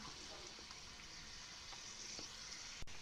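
Peeled garlic fries in hot oil for a tadka for chickpea-greens bhaji, making a faint, steady sizzle broken by a sharp click near the end.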